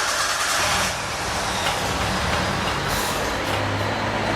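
A car engine running with no fuel in the tank keeps up a steady, loud rumble with broadband rushing noise, continuous and close throughout, without talk.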